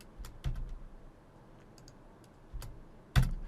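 A few scattered key presses on a computer keyboard while an email is edited, giving soft, close clicks and a couple of firmer taps against a quiet room background.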